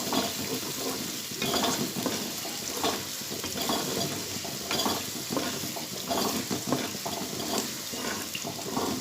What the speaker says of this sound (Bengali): এর মধ্যে টক দই আর পোস্ত আছে, পোস্ত বাটা, একটু কষিয়ে নিই।